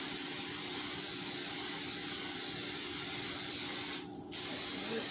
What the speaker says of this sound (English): Spray my non-stick pan